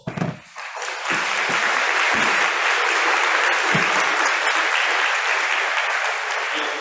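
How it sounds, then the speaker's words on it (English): Sustained audience applause fills a graduation ceremony for an eighth-grade promotion, loud and dense from start to finish after a brief quiet opening. "So give yourselves a round of applause."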